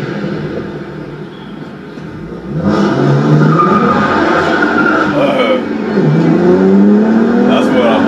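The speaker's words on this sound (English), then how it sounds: "you gotta hear the tires screech" A BMW 1M on the road, engine revving hard with rising, whining tire screech sweeping upward midway through, loud and close, with voices talking over the noise.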